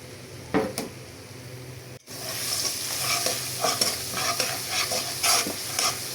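Spice paste sizzles and is stirred steadily in a pan for a stinging catfish curry, with a continuous frying hiss and scraping spatula strokes, close and alone, with no talk.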